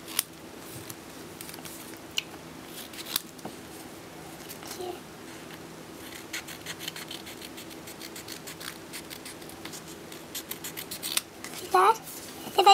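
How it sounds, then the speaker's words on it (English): Quiet, close snipping of scissors through paper in short irregular bursts, with rapid clusters of cuts and a brief voice near the end. "you can just cut them off with the scissors."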